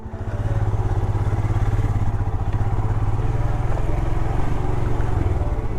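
A motorcycle engine drones steadily and close on a mountain road, a low throbbing hum that holds for several seconds with faint road clatter and no voices.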